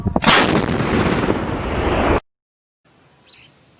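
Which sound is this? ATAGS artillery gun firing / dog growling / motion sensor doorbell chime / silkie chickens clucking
ATAGS artillery gun firing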